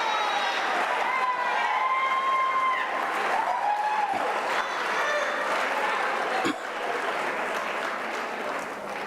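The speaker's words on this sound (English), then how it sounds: "A round of applause again." An audience at a UNISA autumn graduation ceremony keeps up a dense, steady round of applause for the whole stretch, with speech and occasional cheers mixed in.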